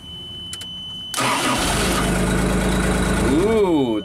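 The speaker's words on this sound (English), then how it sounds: "Push the button, see what the engine speed is." The engine of a small JLG scissor lift cranks briefly after a quiet start, catches and settles into a loud steady idle, then revs up slightly near the end.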